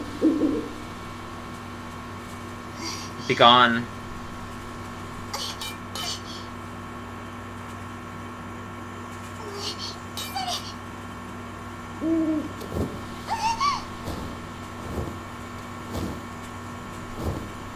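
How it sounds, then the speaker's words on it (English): An owl hoots repeatedly in the video game Deemo Reborn, several clear, separate calls spread out over quiet background music, with a person speaking briefly in between. "The owl hooting is getting annoying"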